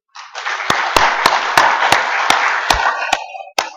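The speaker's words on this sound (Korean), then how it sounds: "우리 교사들 한번 박수 한번 쳐주세요" A church audience claps for their teachers: a loud, dense round of hand clapping from a crowd, with a few sharp, distinct claps standing out above it and an abrupt cutoff near the end.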